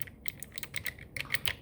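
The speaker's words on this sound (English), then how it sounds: "you'll hear the click happen when you hit a vowel." Rapid typing on a ZSA Voyager keyboard fitted with clicky White Kailh Choc low-profile switches, a quick run of close, crisp keystrokes with sharper clicks scattered through, no voices.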